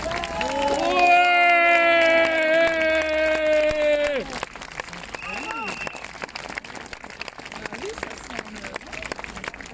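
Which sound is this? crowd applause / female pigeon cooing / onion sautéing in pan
crowd applause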